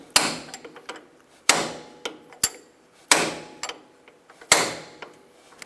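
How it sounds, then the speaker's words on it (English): A hammer tapping a bolt into the control arm of a 2000-2006 Toyota Tundra, about six sharp metallic strikes spaced irregularly with short ringing decays, close and clear with no talk. "once it's started, then we can start tapping it with a hammer"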